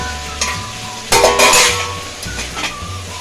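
A utensil scrapes and clatters in a pan while fried bitter gourd sizzles, with several stirring strokes and a louder clank midway.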